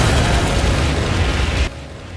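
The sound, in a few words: bomb exploding in a film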